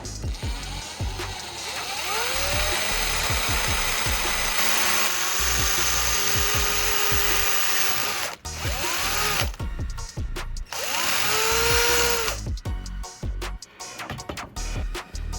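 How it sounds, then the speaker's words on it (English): A power drill bores a hole through the center of a workpiece, its motor whining in repeated rising bursts with pauses, close and fairly loud, alongside handling clatter. "I'll grab the drill and carefully bore a hole straight to the center."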